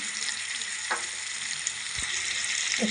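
Ground ginger and green chili paste frying in a pan for a rui fish curry with potatoes, giving a dense, steady hiss of sizzling oil with a few soft spatula scrapes, close and continuous, no voices.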